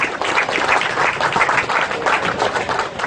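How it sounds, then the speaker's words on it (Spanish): A crowd applauds two ambassadors, Pérez and Durán, at a fund handover ceremony with the US ambassador. The clapping is a continuous, fairly loud wash of many hands, heard on its own. "le pueden dar un nuevo aplauso a los distinguidos amigos, el embajador Pérez y el embajador Durán"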